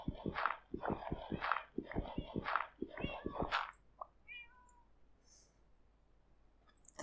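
A Minecraft cat meows in a quick run of about eight close, clear meows over the first three and a half seconds, followed by a few faint, soft game chimes and near silence.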